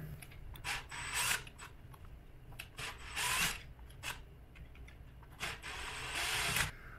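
Close, quiet ratcheting and rasping in short bursts as a big hose clamp is tightened on a Bafang mid drive electric bike motor, with pauses between turns.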